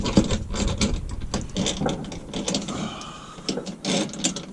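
A ratchet wrench turning a bolt up inside a car's wheel well during crankshaft position sensor replacement, giving close, uneven bursts of clicking pawl with knocks and scraping between strokes.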